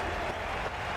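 Crowd applause in the Cricket 22 video game greets a departing batter: a brief, dense wash of clapping from a stadium crowd.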